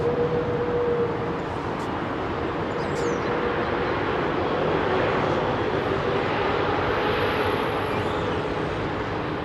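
Saudia Boeing 787-9 Dreamliner taxiing, heard as a steady, continuous jet engine roar with a faint whine, holding an even level throughout with no voices.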